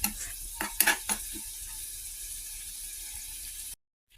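Shrimp paste (bagoong hipon) sautéed in a pan, with a few sharp stirring scrapes near the start over a steady, close sizzle that runs alone and then cuts off abruptly.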